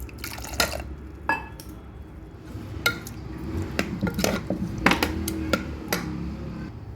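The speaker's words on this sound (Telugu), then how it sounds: "కొంచెం వాటర్ పోసుకుందాం." Water poured into a cooking pot of gongura and lentil curry, heard as intermittent splashes, drips and clinks against the pot over a low background hum.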